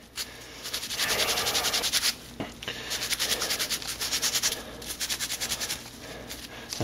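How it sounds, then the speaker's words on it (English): An abrasive sponge scrubs hydroponic net pots in repeated, rhythmic rubbing strokes, close and moderately loud, with brief pauses between bursts of scrubbing. "that little abrasive sponge, the little abrasive part on the sponge is great for getting that stuff off"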